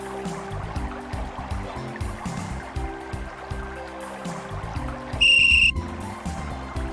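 A single shrill whistle blast, about half a second long, sounds in the Simon the Sorcerer adventure video game, rising loud and clear above the steady background music.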